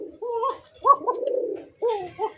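A domestic pigeon coos nearby in several distinct rolling calls, fairly loud and clear, with short gaps between the throaty phrases.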